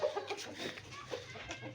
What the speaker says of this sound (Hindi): ये छोटे छोटे चूज़े हैं, ये मुर्गी है, ये मुर्गा है